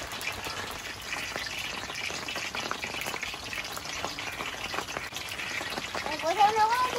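Palm fritters fry in hot oil in a wok, a steady bubbling sizzle with scattered crackles that grows slightly louder toward the end, with voices talking over it.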